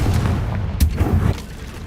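A Confringo blasting spell goes off in Hogwarts Legacy, a loud booming blast with a sharp crack followed by rumbling low-end echoes that fade within about a second.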